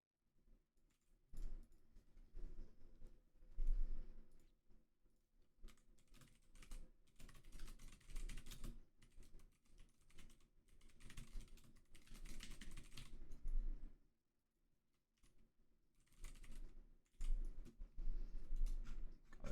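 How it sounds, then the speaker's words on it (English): Steady computer keyboard typing during a game programming session, irregular bursts of quiet close keystrokes with short pauses, no voices. "So much typing."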